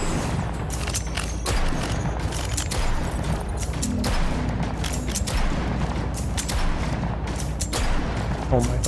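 Rapid gunshots in the first-person shooter Deadzone: Rogue, a steady stream of sharp close weapon fire with occasional booms, continuing while someone talks over it.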